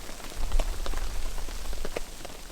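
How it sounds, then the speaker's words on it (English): Snow pelts a small tent during a winter storm, making a dense, close patter of light taps on the fabric, much like sleet, with no talk. "See, that sounds like sleet, but it is snow."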